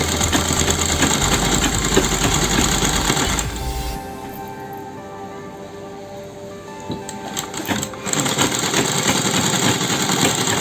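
A sewing machine stitches a double piping border, whirring steadily and loudly at speed, then slowing and pausing in the middle before the run picks up again, with no talking.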